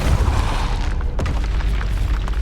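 Blasting spells go off in Hogwarts Legacy as heavy, booming explosions with a sharp crack partway through, loud and continuous throughout.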